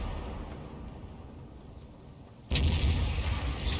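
A closed artillery gun in a tank game, the M53/M55, fires once with a sudden heavy boom that rolls on loudly after steady low rumble.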